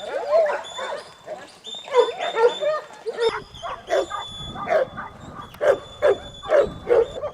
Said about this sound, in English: So how many dogs is that?